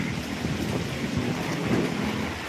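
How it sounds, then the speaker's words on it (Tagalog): Heavy rain pours steadily in a broadband wash at close range, with a low rumble underneath and no voices. "Ayan o, lakas na ulan."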